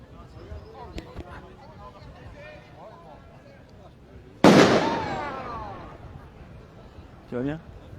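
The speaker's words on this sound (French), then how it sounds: "Alors, il va y avoir pas mal de pétards, hein, effectivement." A firecracker goes off with one loud, sharp bang at a street protest march, then echoes and fades over low crowd murmur and voices, and a smaller pop follows a few seconds later.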